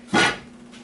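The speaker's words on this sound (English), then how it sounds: "Put the lid on." A lid lands on a cooking pot of red beans with a single brief, near clank, then fades into quiet kitchen background.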